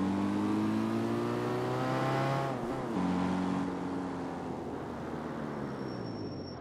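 Car engine in the CarX Street driving game revs up steadily with rising harmonic tones, drops briefly, then climbs again, loud and close with no one talking over it.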